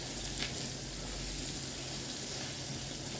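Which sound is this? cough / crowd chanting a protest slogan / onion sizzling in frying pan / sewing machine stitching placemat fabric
onion sizzling in frying pan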